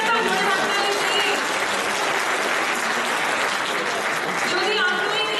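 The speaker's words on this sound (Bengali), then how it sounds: "সবার জন্য একটা জোরে হাততালি দিই।" Loud, continuous applause from a Durga Puja concert audience, a dense wash of clapping that holds steady and swells slightly at the end, with a few voices beneath.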